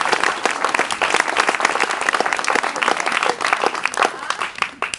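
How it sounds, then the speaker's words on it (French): A theatre audience applauds high school actors before a performance of Le Médecin malgré lui, with dense, loud, continuous clapping from many hands throughout. "Donc on va les applaudir bien fort"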